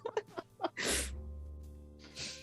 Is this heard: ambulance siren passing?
no